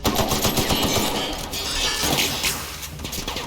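Rapid automatic gunfire from the video game The Outer Worlds rattles loudly and continuously, with sharp repeated bursts and metallic impacts over a busy combat mix.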